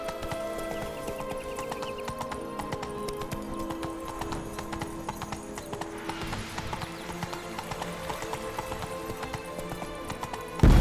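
Roach the horse gallops through The Witcher 3: Wild Hunt in a steady, rapid clip-clop of hooves that runs throughout. Game music plays underneath, and a brief whinny is heard.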